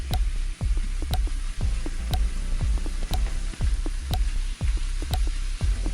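Nacho topping sizzling in a pan while being stirred, a steady crackling hiss broken by a regular thumping beat roughly once per second.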